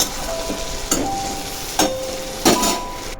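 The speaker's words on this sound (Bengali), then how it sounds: "ডুমো করে কেটে রাখা আলু এই ভেজে নিচ্ছি আলুটা" Steady oil sizzle from diced potatoes frying, with several sharp metallic scrapes and clanks of stirring at intervals, close and fairly loud.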